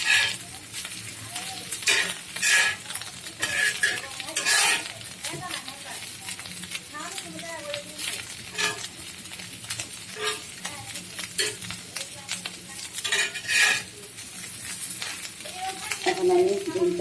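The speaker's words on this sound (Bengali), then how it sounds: "একটু ডিমটা ভাজা হয়ে গেল" Eggs sizzle steadily in a hot pan while a spatula scrapes and stirs in bursts of clatter, and a person talks over the cooking.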